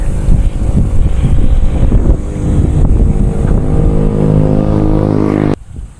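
Strong wind buffets the microphone over the droning engine rumble of a Honda Beat scooter on the Real–Mauban coastal road, continuous and loud until it cuts off near the end.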